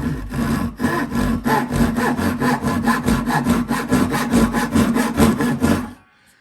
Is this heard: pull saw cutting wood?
yes